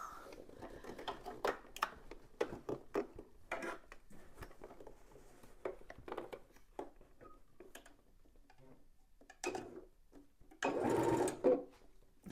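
A sewing machine stitches a padded Christmas tree decoration in short bursts of rapid mechanical clatter with pauses between runs, ending in a longer, louder run.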